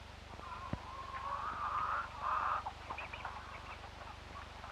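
A hen clucks and murmurs on a 1930s poultry farm, a drawn-out throaty call followed by softer clucks, mid-distance over steady background hiss from an old recording, with no talking.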